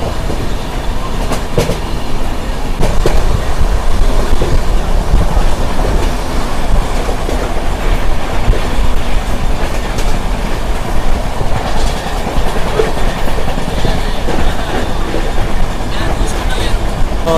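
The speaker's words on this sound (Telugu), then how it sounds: "ఈ ట్రైన్ రన్ విషయం చెప్పాల్సిన అవసరం లేదు." A Padmavati SF Express LHB passenger train running on its tracks, heard loud and close as a continuous rumbling roar with steady clickety-clack of wheels over rail joints throughout.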